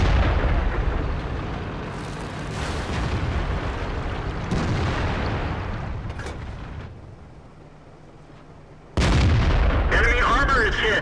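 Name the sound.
tank cannon firing in a video game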